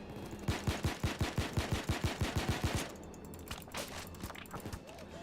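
Rapid bursts of automatic fire from a small gun in the video game Payday 2, a fast, loud rhythmic string of shots for about three seconds, followed by quieter scattered game noise.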